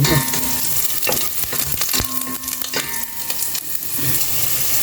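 Garlic frying in a pan in a home kitchen, a steady loud sizzle broken by repeated clacks of stirring, with no talk.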